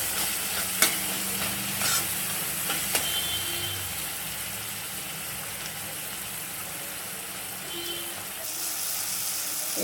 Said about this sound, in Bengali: এখন একটু ভালো করে ভেজে নিতে হবে,